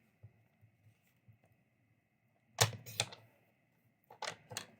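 A paper trimmer slices a 4-inch strip of cardstock for a bridge fold card, giving a couple of crisp cutting strokes and clunks, close and alone after quiet handling.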